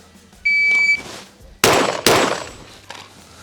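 A shot timer beeps, then two sharp pistol shots ring out close together during practical shooting training, loud and near, with a brief echo trailing after.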